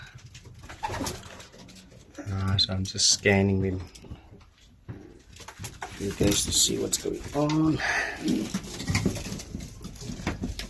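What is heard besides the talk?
racing pigeons in loft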